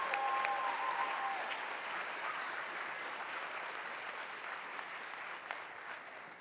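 A large audience at NASA's 2024 astronaut graduation applauds an astronaut's introduction, producing a steady, even wash of clapping that sounds somewhat distant and subdued throughout.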